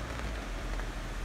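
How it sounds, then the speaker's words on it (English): Steady, dense hiss of rain falling during a Jeep trail run, a constant wash of noise with no voices. "I don't know if you can hear that, but it's raining"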